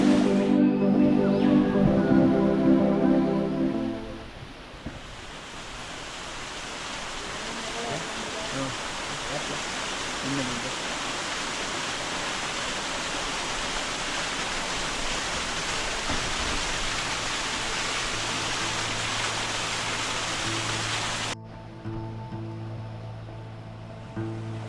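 A mountain stream flows beside the trail up toward Kunukatugala peak, giving a steady, broad rush of water that fills most of the stretch, with tonal music over the opening seconds and again at the end.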